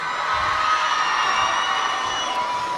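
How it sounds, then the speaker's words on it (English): A live crowd at a holiday day-of-service international showcase cheers and whoops for a performer, a dense, steady roar with high shouts running through it for the whole stretch. "Let's give him another round of applause."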